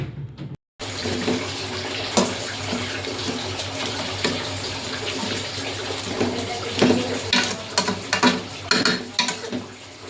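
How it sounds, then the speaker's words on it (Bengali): About a cup of water poured into a pot of chicken pulao, a continuous splashing, bubbling pour lasting several seconds with light clinks and stirring near the end. "এক কাপের মতো পানি দিয়ে দিলাম"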